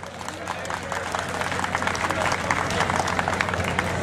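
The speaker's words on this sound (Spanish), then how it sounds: "Jorge Rodríguez y la gringa de Tito Mansen, campeones, el aplauso." Crowd applauding at a tournament in San José Tejalpa, a dense wash of clapping that builds steadily louder over a few seconds, with crowd murmur underneath.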